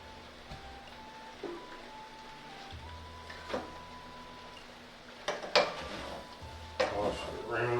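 Chicken fried rice with eggs being stir-fried in a pan: metal utensils clatter and scrape against the pan in scattered knocks, growing busier and louder toward the end over a low kitchen hum.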